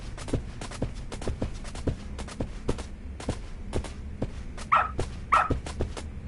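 A dog in the Lost Judgment video game, giving two short yips or barks near the end amid steady footstep-like thumps and game ambience.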